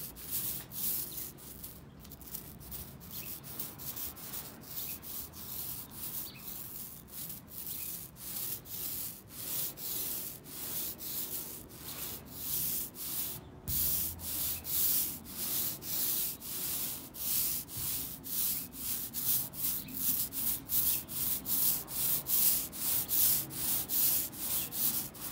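A paintbrush spreading paint over a metal garden table, giving a dense, rapid run of scratchy rubbing strokes that repeat steadily, close and fairly loud, with no talking.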